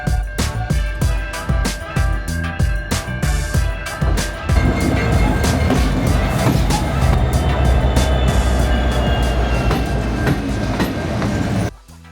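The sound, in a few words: train passing by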